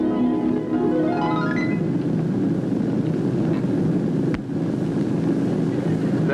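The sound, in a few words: aircraft engine in flight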